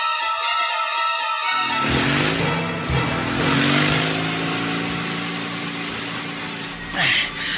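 A motorcycle engine starts up in a radio drama and runs loud and close with a steady revving drone that swells and eases over several seconds, while voices talk over it.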